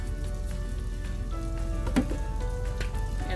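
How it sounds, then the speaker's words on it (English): Eggs sizzle and fry steadily in a pan over low heat while being scrambled, with a soft continuous crackle broken by brief scraping and stirring taps, all close by and with no talk. "And scramble it on low heat"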